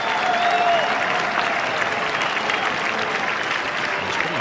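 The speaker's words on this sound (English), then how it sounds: "The crowd loving it." A cricket crowd at a 2000 India versus Pakistan match applauds a Sachin Tendulkar shot, with steady, dense clapping and cheering that continues throughout, and a faint whistle near the start.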